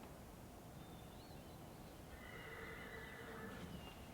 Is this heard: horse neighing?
yes